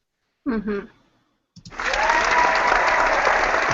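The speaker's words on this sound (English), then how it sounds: "Clapping" After a brief spoken voice and a pause, a small group breaks into steady clapping that grows and continues to the end, fairly close and dense.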